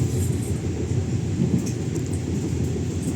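KA Majapahit economy train running on rails near Kepanjen station, heard as a steady, loud low rumble and rolling roar with faint rattling, continuous for the whole stretch with no talk.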